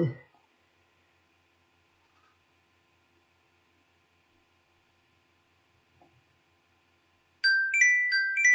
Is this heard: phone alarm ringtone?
yes